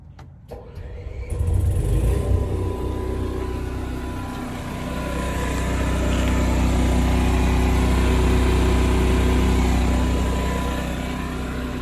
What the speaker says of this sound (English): it should start the generator